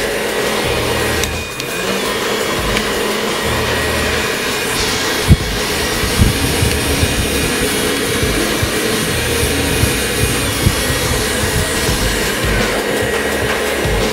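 A hair dryer blowing on a styled pompadour haircut, a loud, continuous airy roar that holds steady close to the listener with only small bumps.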